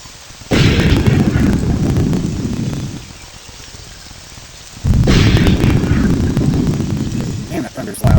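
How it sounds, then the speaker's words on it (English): Two long rolling peals of thunder from a Morrowind game world, loud and close, each swelling then slowly fading, separated by a quieter stretch of ambient rain-like hiss. "Man, that thunder's loud."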